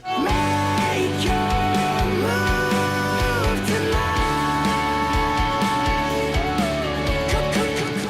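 A heavy rock passage with dense distorted guitars, driving bass and pounding drums, loud and continuous throughout, with no voices.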